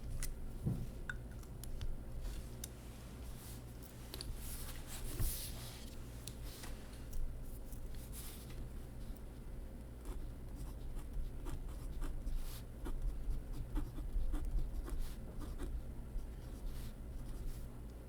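Nib of a Pilot Elite 95S fountain pen, originally medium and since custom-ground, scratching steadily across paper in a quiet room, soft continuous strokes with faint ticks and no talking.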